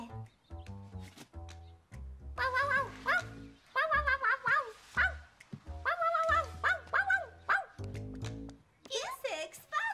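A small dog yips and barks in quick, high bursts, mixed with voices and lively sounds throughout.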